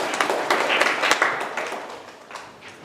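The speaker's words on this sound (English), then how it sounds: "A big round of applause to all of you" Dense applause from a club audience at a Toastmasters 200th meeting celebration, many hands clapping steadily and then gradually thinning and fading over a few seconds.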